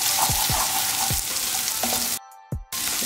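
Cubed yellow and red bell peppers and capsicum sautéing in a hot pan, a steady loud sizzle broken by a few thumps of a stirring spoon and one brief dropout.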